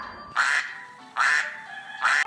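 A farm duck quacks three times at a steady pace. Each quack is short, loud and nasal, with quieter gaps between them.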